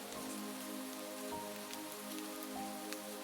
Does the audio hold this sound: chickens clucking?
no